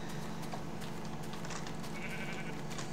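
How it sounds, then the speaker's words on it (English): Sheep in Minecraft bleat faintly, with a short thin call rising over a steady low background hum, and no voices present. "I can't sprint, because then the sheep will stop following me."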